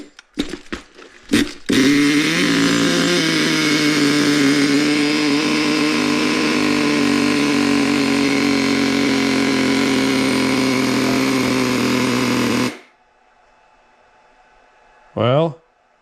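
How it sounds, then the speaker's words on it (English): A vintage Traxxas Nitro Stampede RC truck's nitro engine idles loud and steady with a buzzy, chainsaw-like drone for about eleven seconds after a few sputtering starts, then cuts out, leaving a brief voice near the end. "I'll idle it a little bit"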